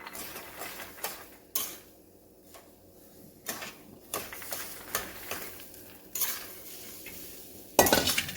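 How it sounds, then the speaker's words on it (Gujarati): Raw peanuts stirred in hot salt in a pan over a full gas flame, giving scattered scraping and rattling strokes, close and fairly quiet, with no talk. "હવે જ્યારે સિંગ મીઠામાં ઉમેરીએ ગેસની ફ્લેમ ફૂલ જ કરી દેવાની અને સિંગ ઉમેરવાની."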